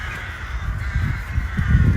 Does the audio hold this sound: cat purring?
no